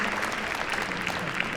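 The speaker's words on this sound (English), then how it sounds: "Great big round of applause there for Magdalena" Steady crowd applause fills an arena at Crufts for a competitor's round in the British Open Jumping agility event, a continuous wash of clapping with faint voices mixed in.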